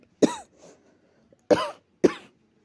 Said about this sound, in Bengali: একটু কাশি হয়েছে